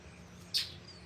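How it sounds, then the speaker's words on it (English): Scrub jay giving a single sharp, high chirp at a distance, brief and faint over a steady low background hum. "That's a scrub jay, if ever there was a scrub jay. Hear that loud ass, insistent chirp?"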